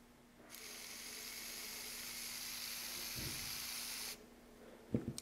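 A mini electric turbofan with a custom impeller cut from hex bar, driven by a cheap 9-volt motor, spins up into a steady, close airy whine and hiss for about three and a half seconds, then cuts off, followed by a few clicks.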